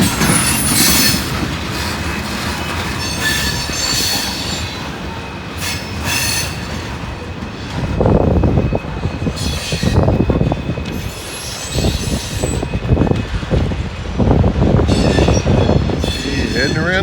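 Freight grain train passing on the old B&O Railroad line on a cold, windy day, with loud continuous rumble, wheel squeal and rhythmic clacking of cars rolling close by under a gusting wind.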